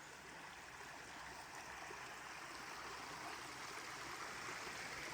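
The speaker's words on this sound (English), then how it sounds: "you got a good bit of water coming down through here" Steady rushing of Gandy Creek flowing over rocks, running high in August, a continuous broadband wash that stays even throughout with no voices.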